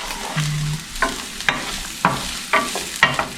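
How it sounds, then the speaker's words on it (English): Chopped onions sauté in hot olive oil with a low sizzle, broken by regular stirring scrapes about every half second. The sound is close and fairly loud, with no talking. "I'm gonna go ahead and toss in these onions that we had already chopped up"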